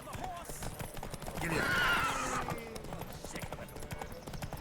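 A horse in The Witcher 3 gallops with rhythmic hoofbeats and lets out a clear whinny midway. Someone talks over it.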